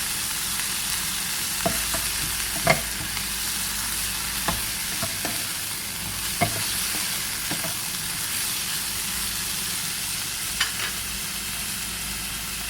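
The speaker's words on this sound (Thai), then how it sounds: "ผัดวนหมูให้สุกนะคะ" Minced pork is stir-fried in a hot pan, a steady close sizzle broken by repeated sharp clicks and scrapes of a spatula against the pan, no talk.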